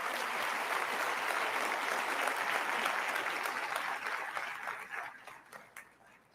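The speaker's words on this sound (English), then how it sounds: "let's give it another round of applause for Rough Riders" An audience at a DMX tribute show gives Rough Riders another round of applause, a dense roar of clapping that holds steady and then thins into scattered claps toward the end.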